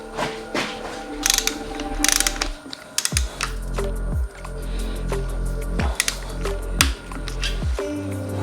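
A hand ratchet clicks in quick repeated bursts as a 12 mm bolt is tightened on a Yamaha YFZ450R engine, with short rhythmic pawl runs separated by brief pauses, close and clear.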